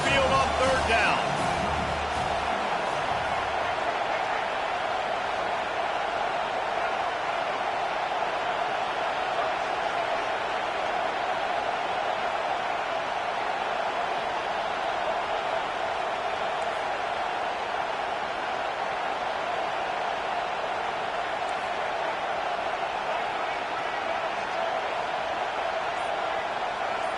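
A home stadium crowd roars steadily in a Madden football video game, a dense, sustained cheer that holds loud and even throughout, with no break or lull.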